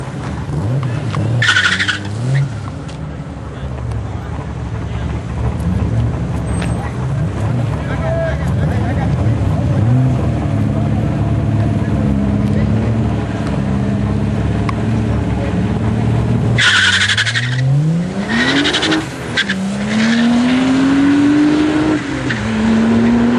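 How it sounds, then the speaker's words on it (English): A 6M Toyota Supra drag car at the strip launches off the line with a loud engine roar, and a second screaming run rises in pitch late on, as voices carry faintly beneath. "Donnie Spears at the line here"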